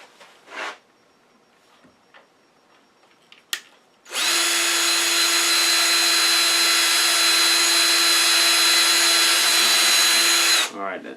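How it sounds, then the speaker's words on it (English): Power drill with a small bit boring a center mark into a wooden yarn bowl, running as one long steady high whine for several seconds after a few faint knocks, loud and close. "Probably do better with a smaller drill bit to mark that center so I can come in from the other side."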